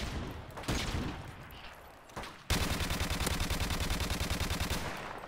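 Rapid automatic gunfire in Modern Warfare Remastered multiplayer on the Beach Bog map, a few short bursts and then a long sustained loud volley, close and dense with no talk.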